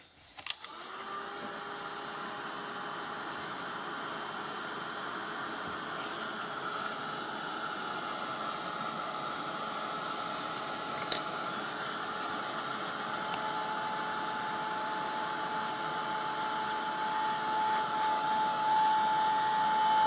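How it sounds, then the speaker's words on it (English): A heat gun drying a coat of paint blows with a steady, loud whirring hiss that starts abruptly and runs continuously, with a faint whine layered over the rushing air. "it is pretty quick drying when you do it with the heat gun"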